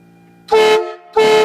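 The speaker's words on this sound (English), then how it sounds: "And that was the train horns." Two loud blasts from vehicle-mounted train horns, each about half a second with a rich multi-tone chord, separated by a short pause, recorded close on a phone with no talking.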